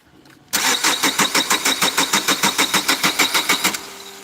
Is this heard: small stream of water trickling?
no